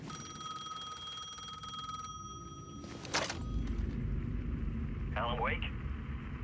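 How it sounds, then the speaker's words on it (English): A payphone rings in the video game Alan Wake 2, a steady electronic ring holding for about three seconds before cutting off. A brief burst and quieter game ambience follow. "The payphone was ringing again."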